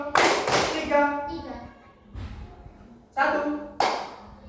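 Schoolchildren in a classroom clap in short counted groups, a few sharp bursts spread apart while a teacher's voice calls out the count.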